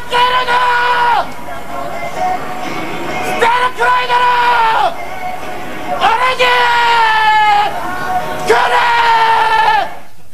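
Nagoya Grampus Eight football fans in a Japanese stadium chant and yell in loud, rhythmic bursts, each swelling then breaking off, repeated about four times over steady stadium noise.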